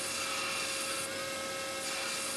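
A knife blade for a chopper build is sanded smooth with a continuous, loud abrasive rasp that runs steadily and close throughout over a constant motor whine.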